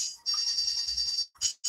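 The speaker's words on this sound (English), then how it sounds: "That's my phone." A mobile phone ringtone plays nearby as a bright repeating electronic tone, one long burst and then a shorter one after a brief gap, with no voices.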